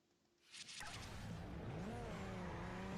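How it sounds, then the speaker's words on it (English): Toyota Supra in the Forza Horizon racing game on Xbox 360, engine rising from quiet into a steady loud drive with tire noise and climbing revs, no talking. "So this is our Toyota Supra"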